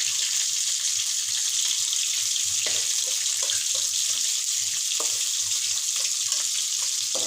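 Pangas fish pieces frying in hot oil, a steady, bright hiss and sizzle with small crackles, close and continuous with no talk.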